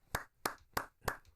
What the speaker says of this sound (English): he's clapped you